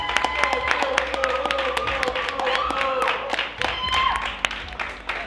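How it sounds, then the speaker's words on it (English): An audience at a modelling-competition reunion show applauds for a contestant, steady dense clapping running throughout, with voices and loud tones from the stage heard over it. "Let's have a round of applause for Krista"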